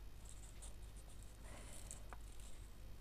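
A pen scratches across paper in an art journal, faint and close, with soft irregular strokes and a quiet background hiss.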